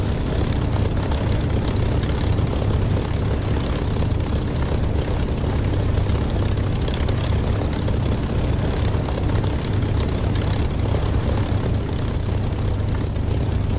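A Spitfire's engine drones steadily in a flight simulator, a loud, continuous low propeller roar with no break and no voices.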